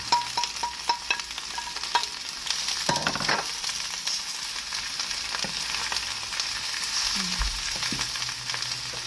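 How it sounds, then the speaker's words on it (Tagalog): Onion, sweet pepper, fish cake and onion cake being stir-fried, a steady loud sizzle with scraping and tossing strokes from the utensil in the pan, close up and continuous, with a few sharper clanks. "Onion, sweet pepper, fish cake, and onion cake. Mix lang natin lahat."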